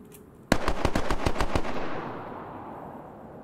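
Gunfire in the video game DayZ: a burst of about eight loud, rapid shots in steady rhythm, followed by a fading echoing tail.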